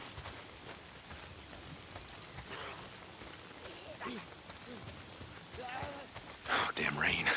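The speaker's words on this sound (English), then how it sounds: "Oh, damn rain." Steady rain patters throughout in the video game Days Gone, with a few muffled voices in the background and a louder splashing burst near the end.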